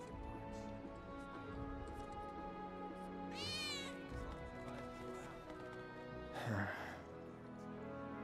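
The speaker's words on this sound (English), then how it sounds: "I think one of Betty's cats might be nearby." A cat meows twice in Final Fantasy VII Remake: two short, clear meows over steady game background music and ambience, the second slightly louder.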